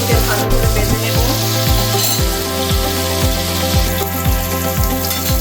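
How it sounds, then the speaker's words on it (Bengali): Tilapia fish frying in hot oil in a pan, a loud steady sizzle crackling throughout with a constant low hum underneath, no talking. "মাছগুলোকে ভালো করে ভেজে নিচ্ছি"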